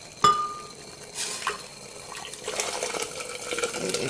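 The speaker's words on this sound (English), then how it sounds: "I'm gonna put the hot water in here." Hot water poured into a glass container for making borax crystals, a close splashing and trickling fill with a clink at the start and liquid sounds building toward the end, no talk.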